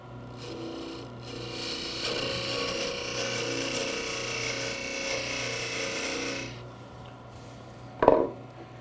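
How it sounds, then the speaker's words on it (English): A parting tool cuts into a spinning wooden Christmas ornament on a lathe, making a steady close rasping whir that stops around six and a half seconds, followed by a sharp knock near the end. "I'll now use my parting tool to further reduce the diameter down here at the end."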